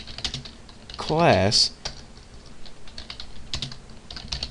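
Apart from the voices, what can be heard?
typing Java code on a computer keyboard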